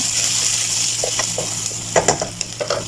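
Onions fry in a pan with a continuous close sizzle, and a few sharp scraping clinks from stirring break through near the end.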